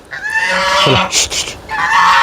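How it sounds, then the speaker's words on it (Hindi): Domestic ducks kept on a farm give loud, close honking quacks that overlap and rise and fall, with brief harsh calls in the middle and no talking. "ये देखो भाई, बत्तख भी पाली हुई है भाई साहब, बड़ी सुंदर है।"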